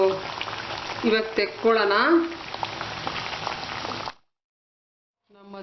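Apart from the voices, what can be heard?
Maddur vada frying in oil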